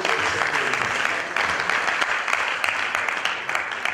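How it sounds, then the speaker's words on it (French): Audience applause fills the hall steadily throughout, a dense, continuous clapping crowd with no pause, heard at moderate distance. "Je voudrais qu'on acclame pour lui."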